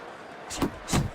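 Two heavy, muffled thuds of punches landing in the boxing video game Fight Night Champion, about a third of a second apart, over a steady background.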